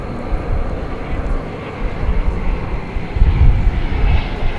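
An American Airlines Airbus A319 jet arriving at DFW airport at night, a broad rumbling engine roar heard from a distance. It swells toward the end, with a voice talking over it.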